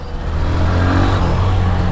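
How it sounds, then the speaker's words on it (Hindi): A 2026 Hero Xtreme 125R motorcycle engine held at full throttle near redline around 7,000–8,000 RPM, a loud steady drone with wind rush, recorded close while riding. "मैं पूरे फुल थ्रोटल पे हूँ, वही चीज़ है, 7-8 हज़ार RPM पे जाके लग रहा है कि हाँ, कि बाइक में जान है प्रॉपर।"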